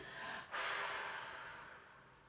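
Slow exhaled breath during a guided relaxation exercise, starting as a sharp rush of air that gradually fades into a long, soft sigh with no speech over it.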